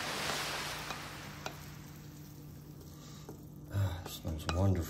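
Sautéed vegetables tipped into a pan with bread and herbs and stirred, a soft hiss followed by scraping and clinks of utensil against the pan near the end.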